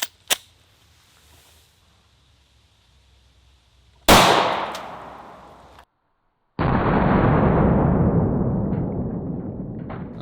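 A Sig P365 pistol fires a single sharp, loud shot into a ballistic gel block, followed by ringing decay, a brief silence, then a sustained loud noisy wash that slowly fades.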